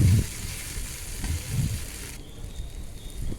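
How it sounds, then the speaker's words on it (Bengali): Taro pieces dropped into a wok of hot oil with cumin seeds and a green chili, a soft crackling fry with a few louder bursts at the start, then a quieter, steady sizzle. "এবার কড়াইতে সাদা জিরে আর একটা কাঁচা লঙ্কা ফোড়ন দিয়ে আমি কচুগুলো তুলে দিলাম।"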